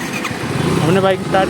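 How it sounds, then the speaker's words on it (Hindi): A motorcycle engine starts and idles briefly, close by, while someone talks over it throughout. "हमने बाइक स्टार्ट की"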